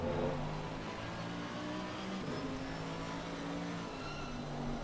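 A race car engine drones at Mount Panorama in a 12-hour endurance sim race, a loud, steady, near-constant engine tone with held harmonics and slight pitch shifts, without voices.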